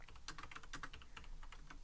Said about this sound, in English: Typing and going.